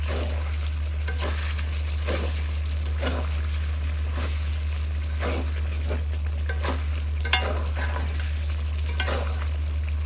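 Desi chicken curry sizzles and fries in a pot over a clay stove on high heat, with a spoon scraping and stirring in repeated strokes over a steady low hum, close and continuous with no talking.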